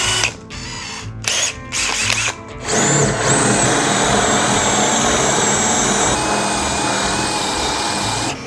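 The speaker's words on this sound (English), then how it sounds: "now we're gonna grab a 1 1/8 inch Forstner bit. I'm gonna draw down on that mark about 2 or 3 inches." A power drill whirs in short bursts, then bores steadily into a 2x4 with a 1 1/8 inch Forstner bit, a loud continuous whine and grind held close by for several seconds.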